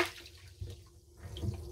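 Seawater entering a boat through an open speed log fitting while the paddle wheel is being changed, a faint gurgling splash that swells twice in a brief, close burst.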